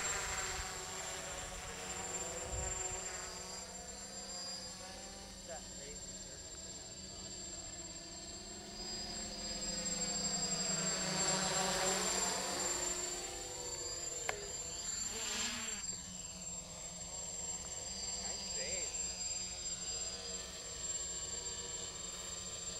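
An XP2 quadcopter with a GPS Naza flight controller flies a return-to-home run in light wind, giving a steady high-pitched propeller whine that swells and sweeps in pitch as it passes overhead, with no voices.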